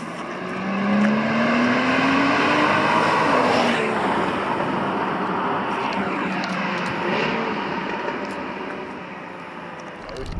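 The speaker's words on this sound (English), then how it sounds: "I just love the way it changes gear so fast" Porsche Cayman S 981 in Sport mode, engine loud and close, rising through revs with a sharp gear change partway through, then holding a steady roar as it settles, no talking over it.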